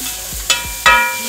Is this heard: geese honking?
no